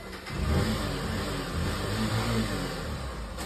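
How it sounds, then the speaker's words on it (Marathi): A car engine revs close by as the vehicle moves past, a steady mid-pitched roar that holds for the whole few seconds with no speech over it. "गाडी जाऊ दे गाडी"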